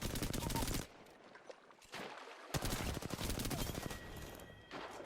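Bursts of distant enemy gunfire in the video game Apex Legends come in clusters separated by short lulls, loud crackling volleys with no talk over them.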